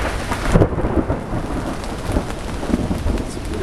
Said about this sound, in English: It's a pretty good storm.